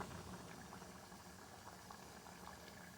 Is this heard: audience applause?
no